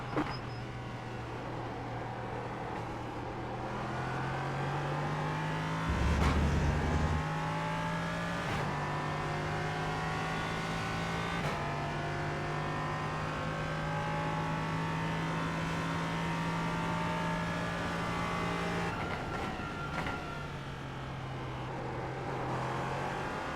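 An LMP3 prototype race car at Mid-Ohio in a racing video game drones steadily through the gears, its engine note climbing, dropping at shifts and rising again, loud and continuous with no talking.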